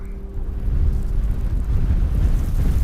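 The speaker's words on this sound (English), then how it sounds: "Yeah, that sounds like a storm, alright." Desert storm wind in a video game, a loud steady low roar of gusting air that swells after the first moments and holds without a break, no voices.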